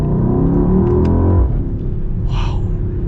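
A Mercedes-AMG GLE 63 S V8 revs hard in manual mode, its loud, close engine note climbing through the gear before dropping to a deep, rumbling lull with a brief whoosh.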